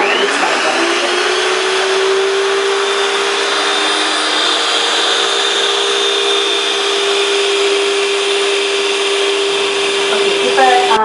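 An electric mixer whirs steadily and loudly while beating an egg into cake batter, a continuous motor drone that holds for the whole stretch and winds down at the end.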